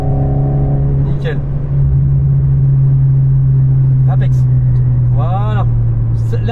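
An Alpine A110 on a track, engine droning steadily and loudly at sustained revs throughout, with a few brief tyre squeals near the end and a coaching voice speaking over it.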